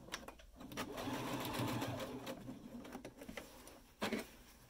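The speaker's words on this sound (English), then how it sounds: "Here's the zigzag inserting method on the sewing machine." A sewing machine whirs in a fast, steady mechanical patter, zigzag stitching elastic, pausing briefly before a short final burst of stitching, fairly close and quiet.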